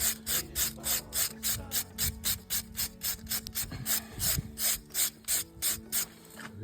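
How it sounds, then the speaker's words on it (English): A stone wall is brushed out with steady, rhythmic scrubbing strokes, about three per second, close and fairly loud, with a few knocks between strokes and no talk. "So this is called brushing out the walls."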